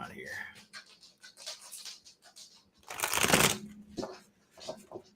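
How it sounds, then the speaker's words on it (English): Cards are shuffled close up in a soft riffle and bursts of crisp flutter, with a louder burst midway, while a person talks intermittently. "All right, one more shuffle."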